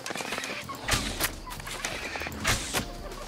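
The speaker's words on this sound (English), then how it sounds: "look at all these fucking chickens" Chickens cluck in the video game New World, with scattered quick clucks and a few sharper calls over a busy ambient game soundscape with low rumbling.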